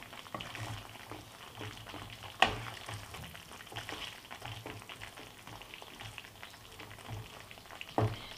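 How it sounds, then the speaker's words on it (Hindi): Eggplant pieces frying in a dry besan spice masala in a pan, a steady soft sizzle with scraping stirs and a couple of sharper clatters from the spoon against the pan, fairly quiet and close, no talking. "दो से तीन मिनट इसी तरह हम बैंगन को फ्राई कर लेते हैं।"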